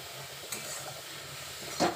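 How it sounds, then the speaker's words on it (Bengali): Grated carrot for carrot payesh fries gently over low heat in a pan, a soft continuous sizzle with the light scrape of stirring and a brief louder flare near the end. "এখন আমি এটা ভাজি।"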